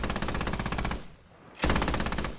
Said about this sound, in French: Donc ça tire de la fragmentation, c'est pas très efficace contre les véhicules, et ça tire